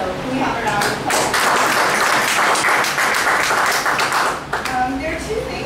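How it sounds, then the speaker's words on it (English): A meeting audience gives a round of applause, dense clapping that swells quickly, stays loud for several seconds, then tapers off near the end into scattered claps and voices. "So can we have a round of applause?"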